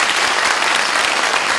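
Loud, dense applause from a large crowd at a political talk concert in Daegu, South Korea, sustained clapping throughout with no pauses.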